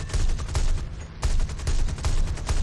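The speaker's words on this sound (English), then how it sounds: "37mm cannon can make mincemeat of this guy" A 37mm aircraft cannon firing in the War Thunder combat flight game, rapid loud bursts of heavy automatic fire in close succession, with a brief pause midway.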